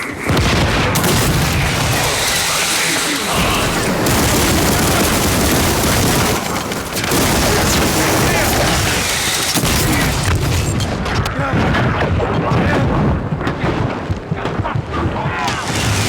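Loud, dense barrage of booming explosions and gunfire in a combat video game as a Vulgus aircraft is shot down. The blasts and rattling fire run almost continuously, with talking mixed in.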